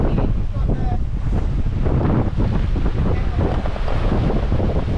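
A sailboat's genoa flaps in roughly 25-knot wind off Queensland's coast, the fabric rustle buried in constant loud wind buffeting the microphone and water noise.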